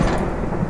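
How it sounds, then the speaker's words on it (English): Thunderstorm ambience in the horror game The Mortuary Assistant: a steady low rumble of thunder with rain-like hiss, holding evenly loud for a brief moment with no voices. "I hate that storm sound"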